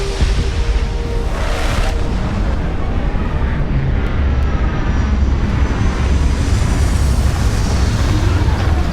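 A spaceship lands in the video game Starfield with a loud, steady engine roar and deep rumble that fills the whole stretch without letting up.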